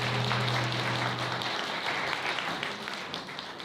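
Wedding guests applauding at an indoor wedding ceremony: steady, dense clapping from a hall full of people, with a short held tone at the start, gradually easing off.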